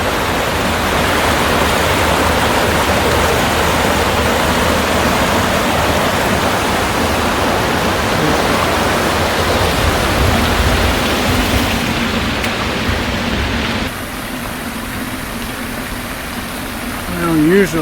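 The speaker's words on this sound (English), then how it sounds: "Usually the other fountain is going at the far end of the pond, but today the close one is going." A garden fountain splashes steadily into a pond nearby, a dense, continuous rush of falling water that holds evenly throughout and dips slightly softer toward the end.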